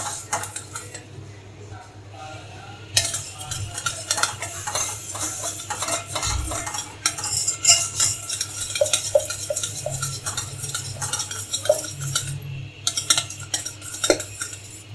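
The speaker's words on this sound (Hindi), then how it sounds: "अपने पास दूध रखें और इसमें थोड़ा थोड़ा करके दूध ऐड करते जाएं।" A spoon stirs milk, cocoa powder and sugar together in a pot, producing repeated close scraping and clinking strokes in an irregular rhythm over a faint low hum, with no talking.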